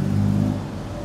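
A Mercedes-Benz W124 with K-Jetronic fuel injection idles smoothly after starting, a steady low engine hum heard close and alone, easing slightly in the second half.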